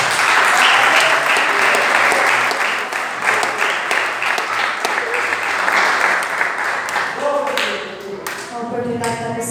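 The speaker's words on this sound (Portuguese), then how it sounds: "palmas para o Senhor Jesus" A church congregation claps together in a worship service, loud and dense, easing off near the end as instrumental music and tones come in.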